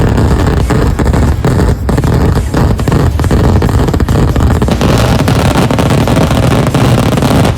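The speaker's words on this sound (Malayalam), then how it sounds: "നല്ലപോലെ വെടിക്കെട്ടും പൊട്ടിക്കൊണ്ടിരിക്കുന്നുണ്ട്" Loud fireworks at the Nenmara Vela festival explode in a rapid, crackling barrage, with sharp bangs over a constant rumbling roar.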